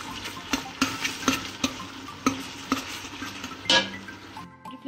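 A spoon stirs and mashes onions, pepper and tomato paste in a narrow pot while they sizzle, the base for a Turkish meat and dried bean stew, repeated scraping knocks against the metal at an uneven rhythm, close and without talk.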